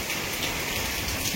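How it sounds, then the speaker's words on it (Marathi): Heavy rain pours steadily in a village during a thunderstorm, a dense, even hiss of falling drops that fills the short stretch without voices. "पाऊस जोरदार सुरू झालेला आहे."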